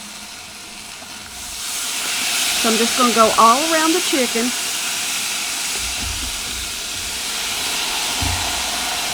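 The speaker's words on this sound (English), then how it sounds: "this is the step where I start using my water to create steam underneath my lid" Steam hissing as water is poured onto a hot griddle beneath a lid while a whole chicken grills outdoors, a broad steady hiss that swells midway and lingers, with someone talking briefly over it.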